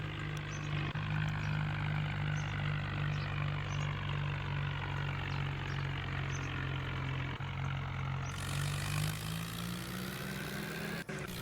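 A tractor runs at full speed, a steady droning engine with a constant low hum that holds evenly throughout, then shifts pitch slightly near the end, fairly faint and continuous.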